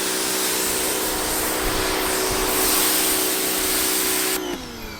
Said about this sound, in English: I can't believe that actually is powering that power washer with that many watts